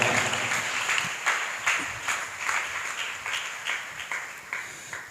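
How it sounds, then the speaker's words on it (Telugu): A church congregation at an Easter Vigil claps loudly in a quick, even rhythm, many hands together filling the hall. "గట్టిగా చప్పట్లు కొడుతూ దేవుని మహిమపరుద్దాం."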